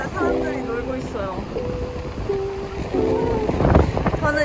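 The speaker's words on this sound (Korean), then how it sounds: "바람이 엄청 부는데 사람들이 놀고 있어요." Strong wind buffeting the microphone on a Gold Coast beach, a continuous rough rumble and rush, with a voice talking over it intermittently and a faint surf wash beneath.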